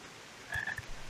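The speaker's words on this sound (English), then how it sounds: "the frogs are making ribbit noises" Frogs croak in the video game Final Fantasy XIV, two quick faint croaks in close succession against a quiet background, with no talking.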